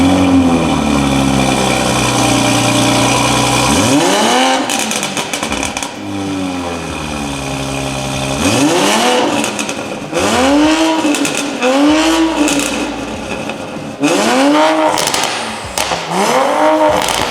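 2020 Toyota Supra with a new downpipe exhaust revving hard at standstill, a steady idle broken by repeated loud throttle blips that swoop up and fall back, with pops between them, close by.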